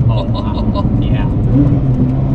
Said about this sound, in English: Downshift is amazing. Yeah, no, the downshift is pretty awesome.